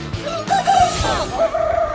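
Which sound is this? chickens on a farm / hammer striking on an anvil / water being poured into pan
chickens on a farm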